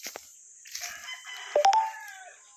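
A rooster crows nearby in a short, loud call with a few clucks, against a quiet background.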